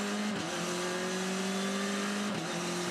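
On-board sound from a Formula 4 race car at Symmons Plains, engine droning loud and steady at high revs, with two brief dips where the driver shifts up through the gears.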